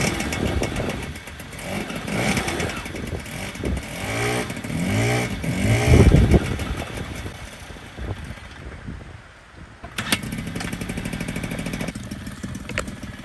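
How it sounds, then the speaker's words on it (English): A small Honda FA50 moped engine sputters and revs unevenly on its first start, then settles into a steady idle after a brief pause, close by and fairly loud. "I'm gonna try to start it and see if it'll idle."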